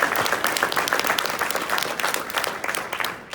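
An audience at a motivational talk breaks into applause for itself, a burst of crisp clapping that holds steady and then thins out toward the end.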